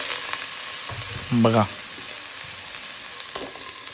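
Tender jackfruit pieces fry and get stirred in hot mustard oil, giving a steady close sizzle throughout, with a brief voice speaking over it partway through.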